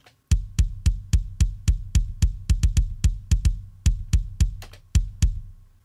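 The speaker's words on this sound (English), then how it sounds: "This is the CLA Rock Kit 7. Let's listen to just this sample." Isolated kick drum sample from the CLA Rock Kit 7 preset in Trigger 2, struck about twenty times in a quick, slightly uneven rhythm, each hit punchy with a sharp attack and short low decay, close and dry.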